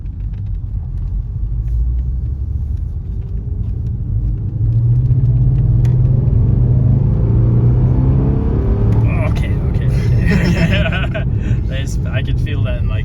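A V8 car engine rumbles steadily throughout a drive, a deep continuous low drone that swells louder midway, with people talking over it.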